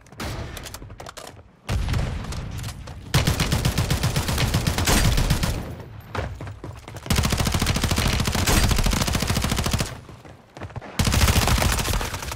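Video game gunfire rattles out in loud, dense automatic bursts with rapid repeated shots. Several long volleys are broken by short pauses.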